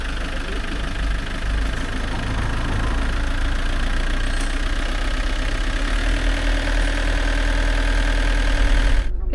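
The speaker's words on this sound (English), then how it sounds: "I can start the engine." Car engine running at a steady idle after an axle repair at a Buenos Aires workshop, a continuous loud low rumble that holds for the whole stretch and then cuts off abruptly at the very end.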